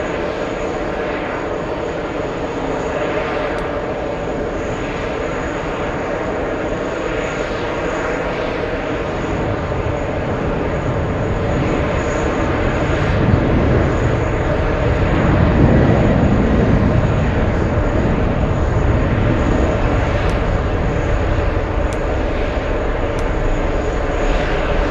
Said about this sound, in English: A Delta 767, this one heading to Dublin as well